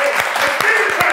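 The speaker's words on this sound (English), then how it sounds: "Let's start clapping right now" An audience claps to welcome Mark Cuban in Dallas, a brief burst of steady applause with talking mixed in.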